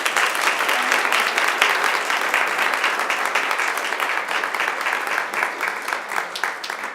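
Loud, sustained applause from a large audience at the CCC Transfer-Mation 2018 event, a dense wash of many hands clapping at steady strength for the whole stretch, with no talking over it.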